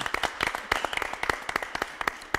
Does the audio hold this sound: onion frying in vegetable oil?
no